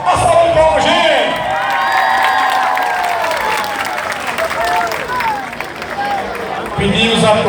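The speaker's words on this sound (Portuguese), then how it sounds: "A salva de palmas, gente." A crowd gathered around a huge bonfire in Sergipe claps and cheers loudly, with shouts and whoops rising over sustained applause.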